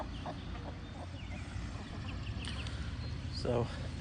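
Hens cluck and murmur softly on a small farm, scattered short calls with one louder burst near the end, over a low background hum.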